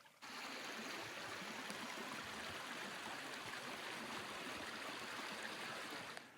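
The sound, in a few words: Smith Brook stream flowing near wetland in Maine forest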